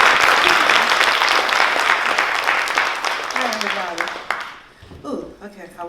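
Audience applause at a fashion runway show, loud and dense for about four seconds, then thinning out as a voice begins speaking near the end.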